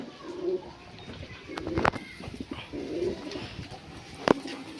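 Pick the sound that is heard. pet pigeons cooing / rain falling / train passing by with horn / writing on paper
pet pigeons cooing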